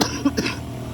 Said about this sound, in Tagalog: Hindi pa rin natapos yung ubo ko.